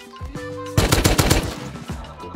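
A Tommy gun firing in the Rust video game, a loud rapid burst of automatic shots that breaks in after a quiet moment and then tails off.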